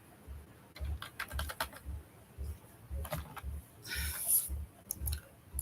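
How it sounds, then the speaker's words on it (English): Typing on a computer keyboard, soft quick key clicks in uneven bursts with short pauses, fairly quiet and close, alongside a faint repeating low thump. "My keyboard keeps locking me out of my system"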